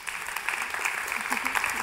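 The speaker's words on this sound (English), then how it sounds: "So please give them a round of applause." An audience at a live fashion event claps in a steady, dense burst of applause, fairly close, lasting under two seconds.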